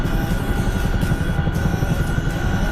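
A helicopter in flight in freezing weather gives off a steady, close engine drone with a low, rapid rotor pulse and no speech.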